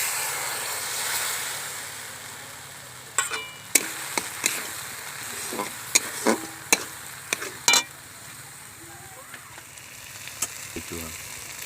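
Cashew paste sizzles as it fries in a pan for chicken rezala, a steady low hiss broken by a string of sharp clinks and scrapes from stirring, close and fairly quiet.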